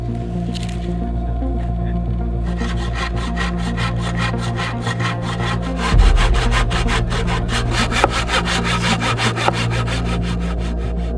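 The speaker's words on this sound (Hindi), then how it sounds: "आरी से आप करते रहोगे, आपके हाथ टूट जाएंगे" Hand saw cutting wood for a chicken shed door in Pakistan, a fast, steady train of rasping strokes starting after a short pause and continuing close and loud, with a steady hum beneath.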